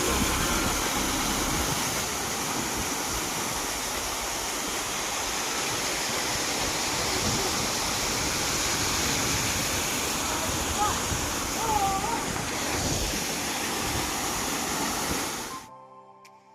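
A waterfall near a Munnar viewpoint roars as a loud, unbroken rush of water close by, holding steady before cutting off suddenly at the end.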